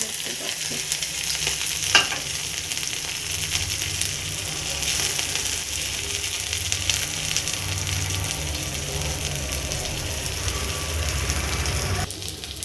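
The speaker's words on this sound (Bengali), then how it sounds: "পেঁয়াজ একটা রসুন থেতো করে নিয়েছি আর একটু লঙ্কা কেটে নিয়েছি এগুলো আমি তেলের মধ্যে দিয়ে দিচ্ছি তেলটা গরম হয়ে গেছে" Onion, crushed garlic and cut chilli sizzling in hot oil in a pan for fried water spinach, a dense, even frying crackle that runs close and unbroken with occasional stirring scrapes.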